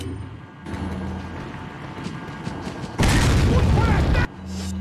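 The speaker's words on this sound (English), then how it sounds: "We're about to use all of our grenades on this guy." A heavy grenade blast erupts in Resident Evil 4, a loud, dense roar that bursts in suddenly and rumbles for over a second before cutting off, set against quieter game ambience.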